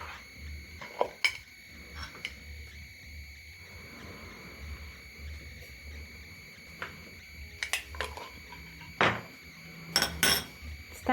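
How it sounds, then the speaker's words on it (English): Spoon scraping and clinking against a pan while salt is stirred into simmering beef stroganoff, with scattered sharp taps, a louder burst of clatter near the end, and a low steady hum underneath. "Stir in the salt."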